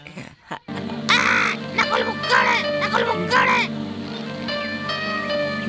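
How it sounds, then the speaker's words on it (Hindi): A parrot lets out a run of harsh, raspy squawks in short bursts, close and fairly loud, mixed in with people talking and a steady music bed. "उसे बोलने दो, ये तोता तुमसे जलता है।"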